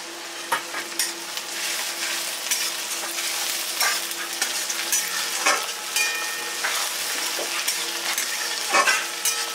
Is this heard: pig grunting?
no